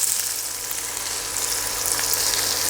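Steady, close sizzle of hot oil frying in a pan for paneer butter masala, a continuous bright hiss with no talking.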